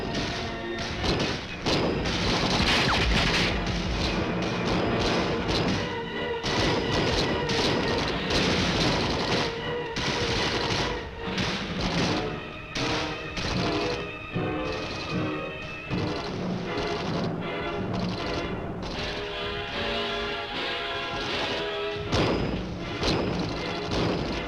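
Infantry riflemen in Vietnam-era combat fire dense, continuous bursts of gunfire, with overlapping shots, thuds and booms crowding together at loud, steady intensity throughout with no pauses.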